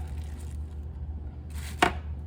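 A knife cuts into a soft block of shea butter, giving a single short, crisp chop against a quiet background with faint rustling beforehand and no talk.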